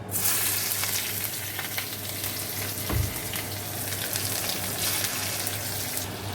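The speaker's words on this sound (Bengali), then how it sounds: "রসুনটা একটু ভাজা ভাজা হয়েছে" Crushed garlic and green chillies frying in leftover prawn oil in a wok, a loud steady sizzle up close with a brief thud near the middle and occasional stirring, no talk.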